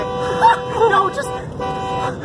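A loud car horn holds a steady tone beside a rail line while people talk over it.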